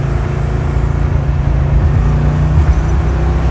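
A 1967 Ford Fairlane 500 with a 390 V8 runs loud and close, its engine humming in a steady, even drone while it is being driven or warmed up, with no distinct rev peaks.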